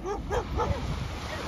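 A puppy at the beach gives a few quick, high yips and yelps in a short burst, close and fairly loud over background surf noise.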